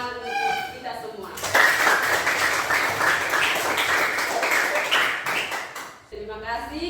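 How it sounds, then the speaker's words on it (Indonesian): A college class claps together for several seconds, forming a loud, steady wash of applause. A voice speaks just before and just after it. "Mari kita tepuk tangan untuk kita semua."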